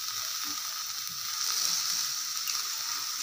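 Chicken pieces sauté in a hot pan, giving a steady, close hissing sizzle with faint scraping underneath and no speech.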